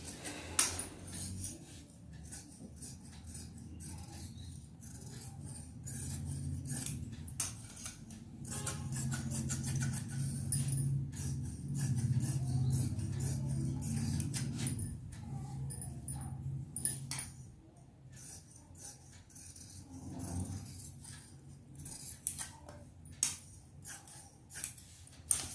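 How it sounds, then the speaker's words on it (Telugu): Scissors cut the front part of a blouse lining on a table, giving repeated crisp snips and rustling fabric in irregular bursts, close and fairly quiet, with occasional clatter in between. "ఇప్పుడు నేను ఫ్రంట్ పార్ట్ కట్ చేసేసుకుంటున్నానండి"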